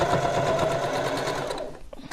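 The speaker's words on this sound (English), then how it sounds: "I love the sewing machine." A sewing machine runs in a steady mechanical whir with rapid stitching pulses, then slows and stops near the end.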